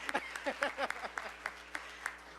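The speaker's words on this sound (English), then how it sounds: "So again, another round of applause." At a disability employment awareness celebration, a small audience claps thinly, a handful of distinct, spaced hand claps that slow and fade, with a faint voice at the start.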